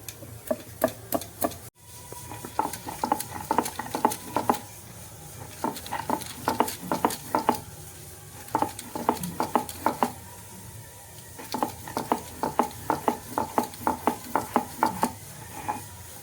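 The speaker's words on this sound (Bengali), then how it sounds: "আদা জিরে বেটে নিলাম।" Ginger and cumin are ground by hand on a stone grinding slab, making bursts of quick, rhythmic scraping and knocking strokes separated by short pauses, close and moderately loud.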